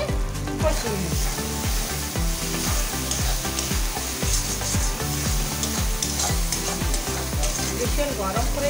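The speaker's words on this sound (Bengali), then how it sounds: "দিয়ে দিচ্ছি হলদি দিয়ে একটু ভালো করে কষিয়ে নিচ্ছি" Prawns sauté in oil with salt and turmeric for a chingri malai curry, the broad hiss of frying running beneath loud, rhythmic music that keeps a steady beat throughout.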